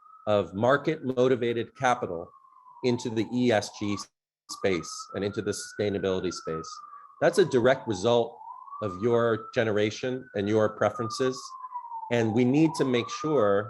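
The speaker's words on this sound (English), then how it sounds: "sorry for the siren here, also in Midtown," Wailing emergency siren on a Midtown city street, a continuous rising and falling tone running throughout under steady close speech from a talker.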